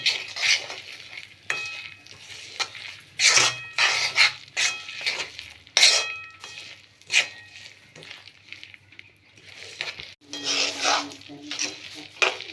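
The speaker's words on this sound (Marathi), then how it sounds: "आपल्याला व्यवस्थित यात हलवून घ्यायचंय।" Sesame and jaggery ladoo mixture with peanuts being stirred in a pan on the stove, giving repeated bursts of scraping and soft sizzling, close and fairly quiet, with brief pauses between strokes.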